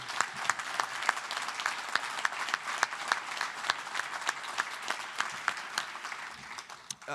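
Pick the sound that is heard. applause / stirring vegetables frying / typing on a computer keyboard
applause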